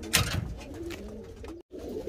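Pigeons coo softly nearby in low, throaty murmurs, with a brief rustle near the start and a short gap of silence toward the end.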